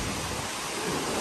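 Heavy rain pouring steadily outdoors in Indonesia, a dense, continuous broadband hiss with no pauses, loud and close throughout the short stretch.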